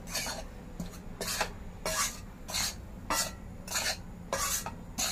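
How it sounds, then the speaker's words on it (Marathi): Wheat flour stirred and dry-roasted on a tava for methi ladoo, a spoon scraping and rasping across the pan in repeated strokes of about half a second, steady and close with no talk. "आधी नुसतंच परतून घेऊया गव्हाचं पीठ"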